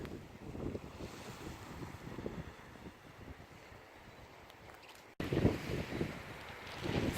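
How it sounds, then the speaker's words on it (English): Waves wash over a pebble beach at Cape Agulhas, the southern tip of Africa, with rolling surf and gusty wind noise across the microphone, and a louder surge near the end. "this is the beautiful beach that we are on."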